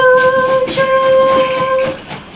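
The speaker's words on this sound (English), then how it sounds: "I hear that train whistle again" A train whistle sounds in one long, steady, multi-toned blast lasting about two seconds, loud and close, with a soft rumble underneath.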